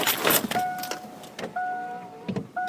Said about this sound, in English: Oh, better put that window up.